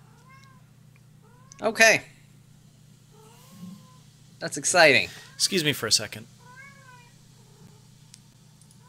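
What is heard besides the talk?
cat meowing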